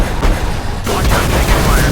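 Gunfire sounds in the Swordfish combat video game, with loud close bursts of shots and booms forming a dense barrage of gameplay noise.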